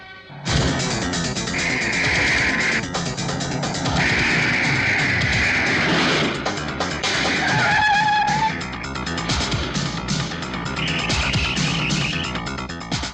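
A speeding car roars loudly and continuously, with crashing and skidding effects over a busy, dense background and no voices.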